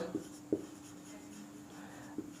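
Marker or chalk strokes on a board, a few short scraping strokes with pauses between them, close and fairly soft, with no talk over them.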